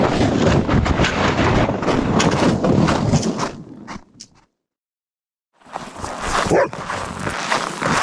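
Sled dogs on a -40°C Alaskan 1600 km race trail, loud and close, a dense stretch of sound with dog barking and yips, then a brief silence before more close dog noise resumes.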